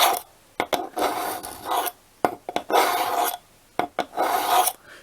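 A knife blade is pulled across a Lansky Blade Medic sharpener in repeated rasping strokes, each about half a second to a second long, close and fairly loud, with short sharp scrapes between the longer draws.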